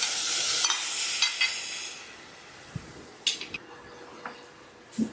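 Squid pieces, for a Kerala-style squid thoran, frying in a pan with green chilies and curry leaves, giving a steady sizzling hiss with occasional sharp scraping stirs, close and clear without talk.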